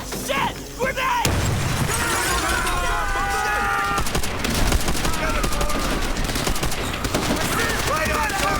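Gunfire and a grenade blast in a Call of Duty: World at War Pacific battle, with dense, loud bursts of shots and a heavy crash near the start, then sustained firing alongside voices talking over the chaos.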